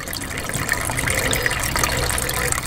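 Water from a solar-powered pump pipe pours into a hydroponic growing system, a steady close splashing gush with no break.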